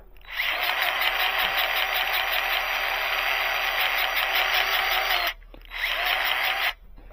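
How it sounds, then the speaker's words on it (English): Bauer 20V cordless grease gun pumps grease with a steady whirring motor drone, running continuously for about five seconds, cutting off briefly, then starting again, close and alone without talk. "Doesn't seem to have any problem pumping grease, folks."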